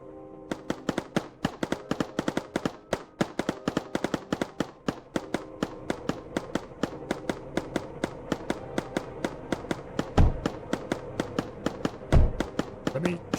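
Gunfire in a factory tower defense game: dense, rapid machine-gun bursts crackle steadily for over twelve seconds, with a couple of heavier thuds near the end, all loud and close.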